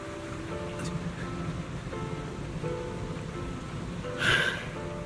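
Steady rain falls in the video game Zenless Zone Zero, a soft constant hiss under a quiet musical backdrop, with a brief brighter splash near the end.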